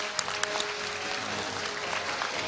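Steady applause from a large audience fills a university degree conferral ceremony, even and sustained throughout with a few sharper claps standing out near the front.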